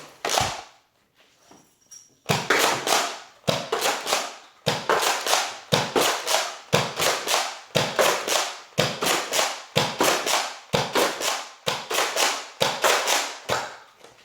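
A Nerf Doomlands Double Dealer blaster fires foam darts at targets in a rapid, evenly spaced series of about a dozen sharp, loud snaps after a brief quiet start.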